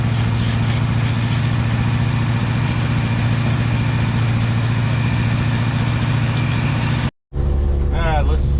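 A 1978 Jeep Wagoneer idles to warm up in an ice storm, giving a steady, loud, low engine rumble that holds evenly, drops out briefly and then resumes.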